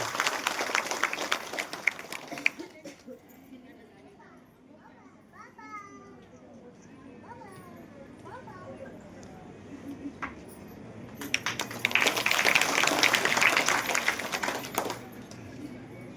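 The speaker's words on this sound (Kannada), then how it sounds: "ಜೋರಾದ ಚಪ್ಪಾಳೆಯೊಂದಿಗೆ ಸ್ವಾಗತಿಸಿ" Audience applause welcoming a guest at a women's discussion forum event in Chintamani, bursting out near and loud at the start, fading under children's voices and talk, then swelling again toward the end.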